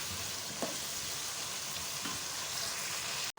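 Chicken pieces frying in a pan hiss with a constant, fairly quiet sizzle and a couple of faint stirring knocks, with no voices over it.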